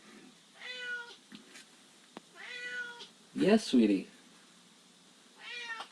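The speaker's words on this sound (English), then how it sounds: "You guys can hear my cat cry at me while I work." A pet cat meows at its owner during a live stream, giving several close, plaintive cries, one louder double meow in the middle, while a person speaks softly between them.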